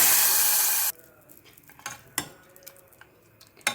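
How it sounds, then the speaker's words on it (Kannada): A tempering of mustard oil with asafoetida and pepper poured over a mixed lentil and legume dish: a loud hissing sizzle at the start cuts off abruptly, followed by scattered clinks and stirring sounds of a spoon in the pot. "ಸಾಸಿವೆ ಎಣ್ಣೆ ಸ್ವಲ್ಪ ಇಂಗು ಮತ್ತು ಒಗ್ಗರಣೆ ಮೆಣಸು ಹಾಕಿರೋ ಒಗ್ಗರಣೆ ಹಾಕ್ತಾ ಇದ್ದೀನಿ"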